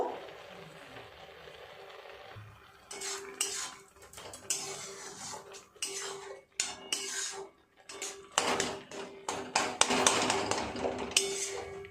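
Lid lifted off a pot of milk and carrots cooking for carrot halwa, with a series of clattering metal knocks and scrapes of cookware close by, irregular and moderately loud, no talking.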